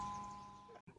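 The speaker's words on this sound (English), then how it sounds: "The school's original bell still rings." The original school bell at the historic Fourth Ward School in Virginia City, Nevada, gives a faint, sustained ringing tone that fades over about a second, heard distantly and alone.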